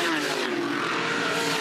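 Touring Car Masters race cars, led by a 1971 HQ Monaro, roar past at Bathurst: a sustained, loud engine drone with steady tonal whine and no speech.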